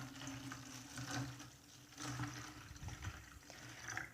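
Vinegar poured from a bottle into a container for homemade fabric softener, a steady close liquid splash with gurgling pulses as the flow surges, no talking.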